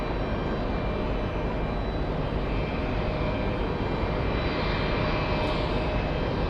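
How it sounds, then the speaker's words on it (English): A JetBlue jet airliner, flight 854 from West Palm Beach, Florida, flies in with a steady broadband engine roar that holds constant throughout, fairly loud and unbroken, with no voices. "We have JetBlue flying in from West Palm Beach in Florida, JetBlue 854."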